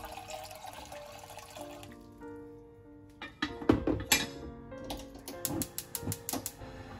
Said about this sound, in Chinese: 首先，我们将水倒入锅中